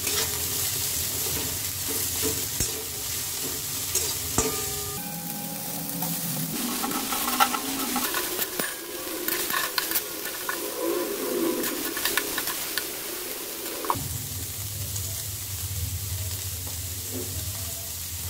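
Chicken stir-frying in hot oil in a wok for chowmein, a loud, steady sizzle with shifts in intensity as the pieces are tossed, close by and with no talking.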